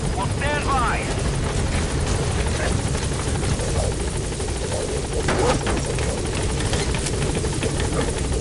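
A helicopter in the Metal Gear Solid 5 video game rotors loudly and continuously as it comes in to a landing zone, with steady blade chop and engine roar under brief radio-style voices.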